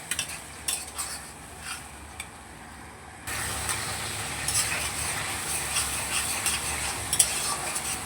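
Tomatoes sauté in a pan over a low gas flame, with a steady sizzle that grows fuller partway through and soft scraping of a utensil stirring them.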